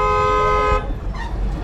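A loud, sustained car horn blares close by in Nigerian traffic, then cuts off, leaving road noise and the murmur of vehicles.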